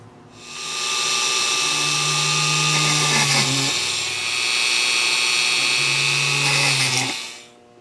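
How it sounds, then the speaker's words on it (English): A power drill with a 7/64 inch bit whirs steadily in two long runs, its pitch dipping briefly between them as it bores into the plastic of a toy X-wing fighter model, loud and close. "drill a hole into the plastic"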